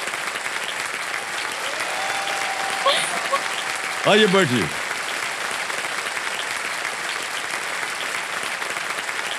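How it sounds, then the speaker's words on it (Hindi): A studio audience on the set of the KBC game show claps steadily throughout, a dense, even wash of applause. A brief spoken phrase and a short sliding tone rise over it midway. "ताली बजा जोरदार कनक जी के लिए"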